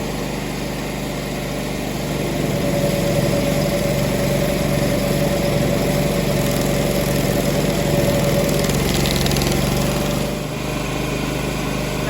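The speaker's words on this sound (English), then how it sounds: "Some people will be tempted to move their stump grinder forward like this and then start going on deeper" Stump grinder cutting into a tree stump, a loud continuous engine drone with grinding noise, close and steady for the whole stretch without speech.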